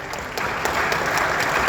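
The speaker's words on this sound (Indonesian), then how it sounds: "Kita tepuk tangan." An audience at an Indonesian meeting gives brief applause: a short burst of dense clapping that starts quietly and fills in, fairly loud and close, without speech over it.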